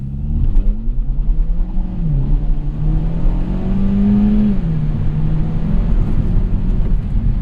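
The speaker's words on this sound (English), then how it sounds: "let's go ahead and see what happens when I plant the throttle with everything turned off" A 2017 Hyundai Elantra Sport with DCT launching at full throttle, traction aids off; the engine drone climbs steadily in pitch, dips once as it shifts, then rises again under loud cabin rumble and road noise, without speech.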